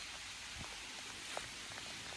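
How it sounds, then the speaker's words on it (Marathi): Rain falls steadily outdoors on a motorcycle trip near Vasai Fort, a soft continuous hiss with a few scattered droplet taps and no voices. "पाऊस पडतोय"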